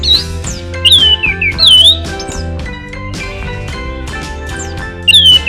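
An orange-sided thrush sings loudly and close by, a rich run of fluting whistles and squeaky notes over a steady backing of music.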